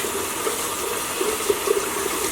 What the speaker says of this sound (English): what you'll do is just rinse it all out.